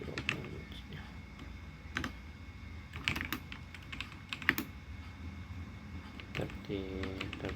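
Keys clatter on a computer keyboard while router configuration commands are entered, an irregular run of close, crisp keystrokes throughout, with a brief voice near the end.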